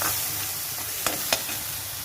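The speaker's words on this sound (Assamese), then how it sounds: "মছলাখিনি দি এনেকৈ 2-3 মিনিটমান সময় ভাজিব।" Masala with amchur powder fries softly in a pan on low gas, a quiet continuous sizzle broken by two brief scraping strokes of the stirring spoon.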